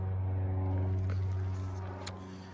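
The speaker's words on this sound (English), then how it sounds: "sorry about the plane noise" An airplane passes overhead near a parked Sunlite 16 BH camper trailer, a steady droning hum with strong low tones that slowly fades, while a person talks over it.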